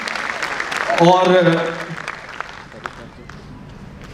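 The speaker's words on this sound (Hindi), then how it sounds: "एक बार मणिका दुबे जी के लिए जोरदार तालियां।" Audience applause at a Hindi kavi sammelan poetry gathering, a short burst of clapping swelling under a voice and then fading quickly into scattered claps.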